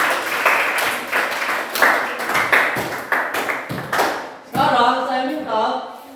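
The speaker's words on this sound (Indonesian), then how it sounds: "Sekali lagi berikan tepuk tangan" Applause from a classroom for groups who have presented, a run of loud, fairly uneven clapping that swells and ebbs for several seconds, then gives way to talking.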